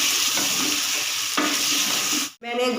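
Mutton pieces fry loudly in a pot with steady sizzling and scraping stirs, briefly cut off near the end before the hiss resumes.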